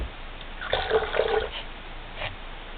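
Small splash of water poured from a container toward a tarantula egg sac, a brief soft trickle and pattering lasting under a second, followed by a faint drip, close and fairly quiet.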